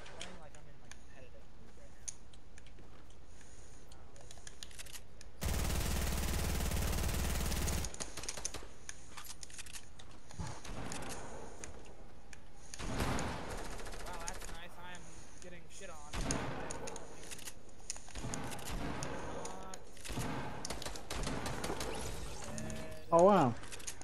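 Gunfire in the video game Fortnite crackles in scattered bursts among mechanical clicks and weapon handling, mostly under people chatting.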